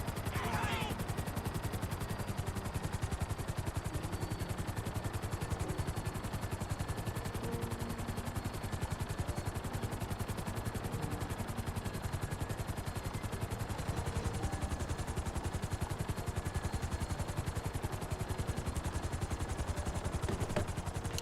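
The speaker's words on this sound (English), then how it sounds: "Helicopter's in much better condition compared to last time." A helicopter in the video game GTA V drones steadily through the whole stretch, a continuous loud rotor and engine rumble with no break and no talk over it.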